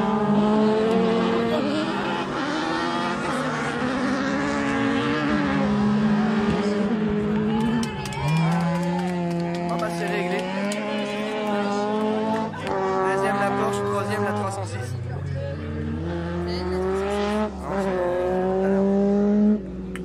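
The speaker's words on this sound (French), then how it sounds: "La jaune là que tu entends passer." A yellow autocross race car at a French championship round in Is-sur-Tille, its engine note rising and falling as it passes amid other cars, with crowd chatter and talking throughout.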